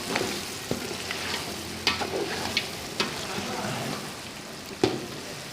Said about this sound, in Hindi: गोश्त तकरीबन फ्राई हो चुका है